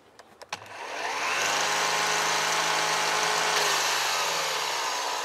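A battery-powered grass trimmer with its motor at the rear starts up after a few clicks and runs with a steady, loud, high-pitched whine that holds for several seconds.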